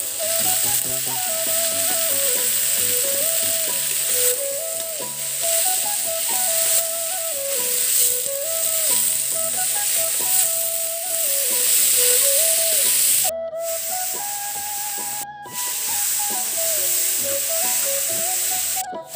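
Steady close-up sizzling of vegetables and potato frying in a pan, continuous for the whole stretch, with a melodic music track playing over it.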